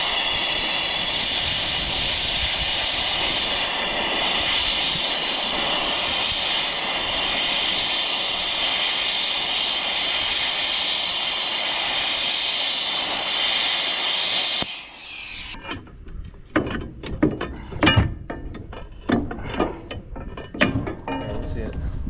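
A plasma cutter gouges grade 50 structural steel while repairing an excavator boom mount, as a loud, steady hiss and roar that runs for about fifteen seconds and then cuts off, followed by clanks and handling noises.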